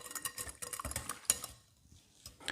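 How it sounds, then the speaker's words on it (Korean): Instant dry yeast being lightly stirred into a bread mixture in a bowl, close soft scraping and tapping strokes in short bursts, then a brief pause before more stirring. "마찬가지로 살짝 섞어줍니다"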